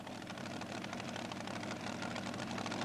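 A tractor-pulling machine powered by a Chevrolet eight-cylinder V8 engine rumbles and roars steadily at a motorsport event, a loud, rough, continuous drone heard from a distance.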